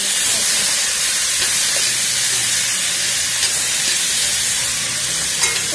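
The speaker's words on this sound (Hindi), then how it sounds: "इसे हमें तकरीबन 7 से 8 मिनट तक भूनना है" Garlic, ginger, tomatoes and onion fry in a pan for paneer butter masala with a loud, hissing sizzle, steady and close throughout, broken only by a couple of faint stirring clicks, no talking.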